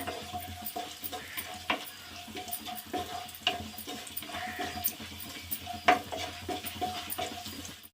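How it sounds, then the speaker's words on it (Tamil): Raisins crackle and sizzle in hot ghee for a moong dal sweet, with steady fine frying noise, a spoon stirring and scraping, and a few sharp pops and clicks, close up and moderately loud. "நல்லா பொரிஞ்சு வருது பாருங்க திராட்சை"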